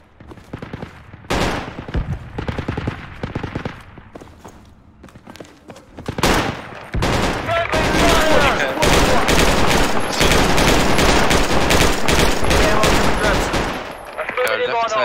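Gunfire from the military shooter game Project Reality: sharp shots and rapid bursts, sparse at first and then a dense, sustained fusillade of overlapping automatic fire, loud and close, with voices talking in between.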